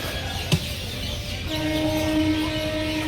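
A train runs into the line near Babughat in Kolkata with a steady rolling rumble of rail wheels, a brief horn blast near the start and a sustained horn tone later, close and loud over a busy background.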